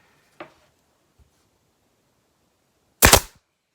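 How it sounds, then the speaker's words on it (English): A staple gun fires a center staple through upholstery fabric into a dining chair frame: a faint early click, then a single loud, sharp snap close by. "I'm gonna go ahead and place a center staple up here."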